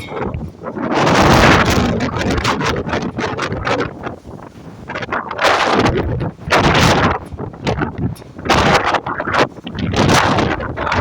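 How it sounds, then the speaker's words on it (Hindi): Strong cyclone wind storm roaring outdoors, a loud sustained buffeting that batters the microphone in gusts, with no talking. "भाई क्या वावाझोड़ा है रे।"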